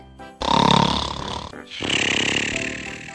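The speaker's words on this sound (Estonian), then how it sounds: "Aga teeme nii ka, et kui vajutada M-tähele, siis jääb Robi magama ja hakkab norskama." A synthetic, buzzy snore sound effect from a programmed robot, with two long rumbling breaths, loud and close, with no talking.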